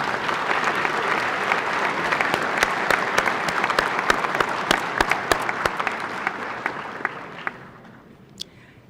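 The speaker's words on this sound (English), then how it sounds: "How about a nice round of applause for Ms. Brune?" A legislative chamber full of people applauding steadily at an opening day floor session, sharp individual claps standing out, then the clapping thins and dies away near the end.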